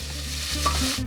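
Ratatouille vegetables, eggplant among them, sizzle in a hot pan while being stirred, a close, continuous frying hiss broken by scraping stirs.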